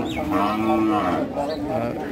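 A Sahiwal cow lets out a long, drawn-out moo close by, with another lowing call following amid the murmur of people talking at a busy cattle market in Rajshahi.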